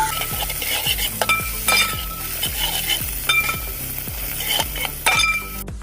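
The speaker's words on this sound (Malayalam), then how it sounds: "ഇഞ്ചിയും പച്ചമുളകും വെളുത്തുള്ളിയും എല്ലാം വഴണ്ടു വന്നിട്ടുണ്ട്" Ginger, green chilli and garlic sauté in a pan for a spicy duck curry, a steady sizzle broken by repeated scraping and clinking of a spoon stirring against the pan, with no talking.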